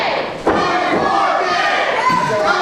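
Wrestling crowd at a Great Lakes professional wrestling showcase roaring and cheering loudly and continuously, with a thud near the start as a wrestler is stomped.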